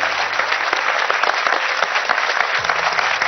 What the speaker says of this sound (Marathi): त्यांना एकदा जोरदार टाळ्या देऊया